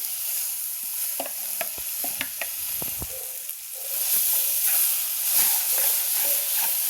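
Spinach puree poured into a hot pan of sautéed garlic for dhaba-style lasooni palak paneer, loud steady sizzle and hiss with scraping stirs of a spoon, the frying growing brighter and louder midway.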